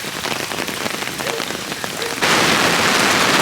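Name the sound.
heavy rain over the Brisbane River during Queensland flooding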